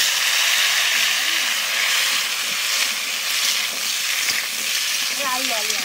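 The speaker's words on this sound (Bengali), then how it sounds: "হ্যাঁ আলুটা ভেজে নেবো।" Potatoes fry in hot oil in a home kitchen with a steady, dense sizzle and crackle. Occasional stirring rises above the hiss, and faint background voices and a brief whistle-like tone come through underneath.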